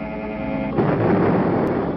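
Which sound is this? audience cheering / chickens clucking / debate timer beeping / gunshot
gunshot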